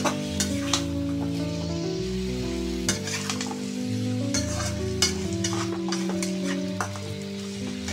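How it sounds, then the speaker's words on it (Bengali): Baim fish and vegetables are being stirred in a hot pan, with a steady sizzle and scraping stirs recurring at close range while a melody plays in the background. "মাখা মাখা ঝোল মাছের সাথে সবজিটাও কষিয়ে নেব।"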